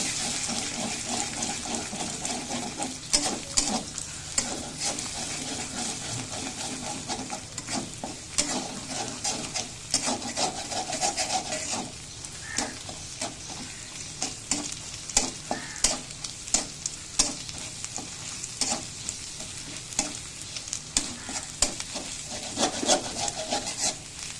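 Rice fries with beaten egg in a pan, a continuous sizzle under frequent scraping and clacking from a stirring spoon, close and fairly loud throughout.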